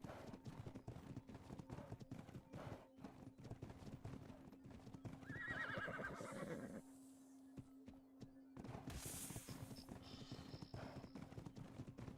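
Rapid clip-clop of a horse's hooves galloping in the GunsmokeRP roleplay video game, with the horse whinnying partway through and a brief pause before the hoofbeats resume.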